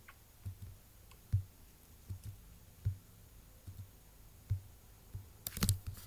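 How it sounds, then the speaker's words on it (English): Computer mouse clicks on a Facebook done button, a handful of faint, sharp clicks spaced irregularly over quiet room tone. "I'm going to share this now by clicking on the done button"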